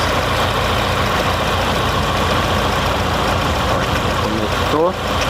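A Fiat Palio with a 1.8 GM engine running rough and misfiring, a steady loud close engine drone with uneven roughness throughout, heard alone without talk.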